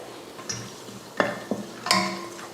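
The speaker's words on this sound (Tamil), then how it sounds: "எண்ணெய் காஞ்சதுமே 3 கிராம்பு, 3 ஏலக்காய், 3 துண்டு பட்டை, 2 அன்னாச்சிப்பூ, 2 பிரிஞ்சி இலை" Cloves, cardamom, cinnamon pieces, star anise and bay leaves drop into hot oil for kushka rice. A soft sizzle runs under a few sharp clinks of a spoon against the pan.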